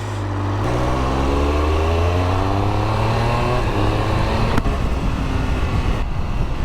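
A Triumph Speed Triple 1200 RR motorcycle in sport mode pulls hard, its loud engine note climbing steadily in pitch through the revs, dropping briefly at a gear change around the middle, then rising again close to the listener.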